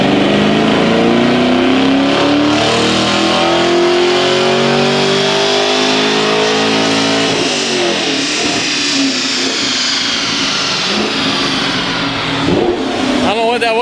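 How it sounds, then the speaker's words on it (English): A Chevrolet Camaro SS 1LE roars on a dyno, its V8 revving hard and climbing steadily in pitch, then dropping off and settling into a rougher idle with crackles, loud and close throughout. "I think we're gonna stick around for the dyno on a Camaro SS 1LE"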